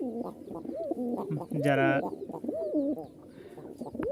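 A male Giribaz pigeon from Rajshahi cooing close up, repeated gurgling rolling coos in a loose rhythm, with a brief higher call midway and someone speaking briefly over it.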